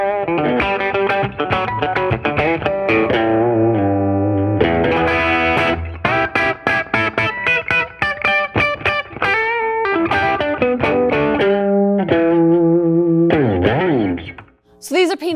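An electric guitar fitted with P90 pickups, overdriven and biting, plays quick runs and chords with bends, loud and close with no talking, briefly dipping near the end.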